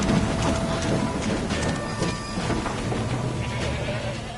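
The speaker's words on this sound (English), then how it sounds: "Stop the train!" Train in the farming life game My Time at Sandrock: a steady, dense mechanical rumble with faint squealing, whistle-like tones, continuous and fairly loud throughout.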